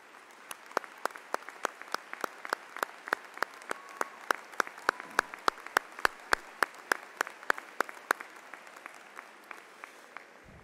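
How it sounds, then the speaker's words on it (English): Audience applause for staff at a Brookfield Central Class of 2019 graduation ceremony: a sparse, steady run of distinct individual claps, fairly close and clear, with no talking. "Please stand for a round of applause."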